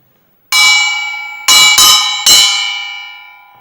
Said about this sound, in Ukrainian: І вона задзвонила, як дзвін.